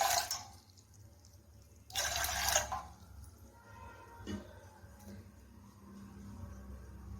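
Water poured from a glass into a pot on a stove, with a short splash at the start and a louder pouring burst midway, then quiet clinks and low background noise.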